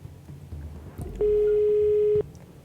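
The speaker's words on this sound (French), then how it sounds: "S'il vous plaît, Régie, veuillez appeler Shahima Anti pour aider Shazad" A single telephone tone sounds for about one second, clear and steady, as a call is placed to a helper during a quiz show, with quiet studio ambience before and after.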